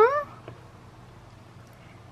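A domestic cat gives a single short, rising meow at the very start, followed by a quiet indoor room with only faint background noise.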